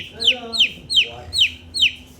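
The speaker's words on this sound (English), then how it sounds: "It's a hen." A hen gives five short, evenly spaced clucking calls in a steady rhythm, fairly close and moderately loud, with a faint low hum running underneath.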